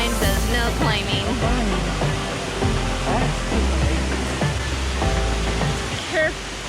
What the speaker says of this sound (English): we're gonna try and get all the way to the waterfall and shower in the waterfall